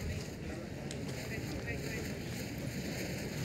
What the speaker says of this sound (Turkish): Çok rüzgarlı.